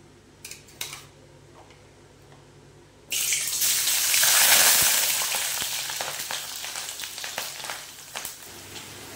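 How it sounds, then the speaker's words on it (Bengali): Sliced potatoes hit hot oil in a wok with a sudden loud sizzle that swells, then settles into a steady crackling fry, close up, after a few quiet clinks. "এইবারে দিয়ে দেবো কেটে রাখা আলুগুলো। এই আলুগুলো আমি একটু হালকা ভেজে নেব।"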